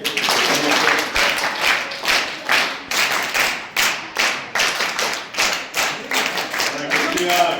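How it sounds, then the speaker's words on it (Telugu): A crowd claps in a rhythmic, unison beat at a Women's Day school event, steady pulses repeating about twice a second, close and loud, with faint voices underneath. "అందరూ చప్పట్లు కొట్టండి ఒకసారి"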